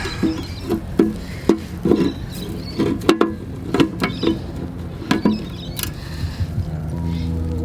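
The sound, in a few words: needle nose pliers bending BMW e30 exhaust muffler metal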